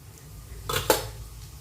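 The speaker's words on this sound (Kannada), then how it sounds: "ಈಗ ಅದಕ್ಕೆ ನಾನು ಸಾಸಿವೆ ಹಾಕ್ತಾಯಿದ್ದೇನೆ ಮತ್ತು ಅದಕ್ಕೆ ಜೀರಿಗೆ ಸಹ ಹಾಕ್ತಾಯಿದ್ದೇನೆ. ಅದು ಚಟಪಟ ಅಂತ ಇದೆ." Mustard seeds and cumin dropped into hot oil and ghee give two quick spluttering crackles close by, then fade to a quiet kitchen background with no talk.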